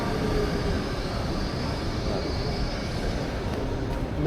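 Interior of a new Hitachi-built Baltimore Metro SubwayLink train running on its line, a steady loud rumble and roar of wheels and motors with faint high squeals, continuous and close.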